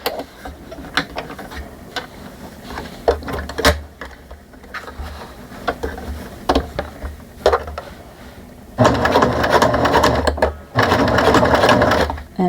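A sewing machine stitches across a lanyard seam, opening with slow, handled clicks and taps, then running in two loud, fast, steady bursts near the end; a voice talks quietly in places.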